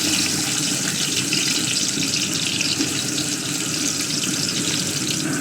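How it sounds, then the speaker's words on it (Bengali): Onions frying in hot oil for a Bengali fish and ash gourd curry, a dense, steady loud sizzle with a constant hissing crackle throughout and no talk. "এখন অয়েল গরম হয়ে গেছে, আমি পেঁয়াজ দিচ্ছি"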